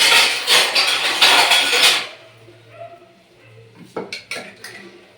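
Stirring a masala curry in a pot: a loud, dense stretch of scraping and clattering for about two seconds, then quieter, with a low hum and a few sharp metallic clinks near the end.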